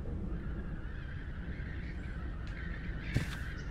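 A crow in a horror video game gives drawn-out, honking caws over a low droning ambient bed, moderately near, with a sharper burst toward the end.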